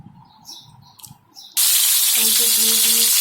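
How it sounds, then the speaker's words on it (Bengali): Hilsa fish frying in a little oil, a sudden loud, steady sizzle that starts partway through after quieter clinks and movement, close and continuous. "অল্প তেলে ভাজতে হবে এটা এভাবে ভাজতে হবে"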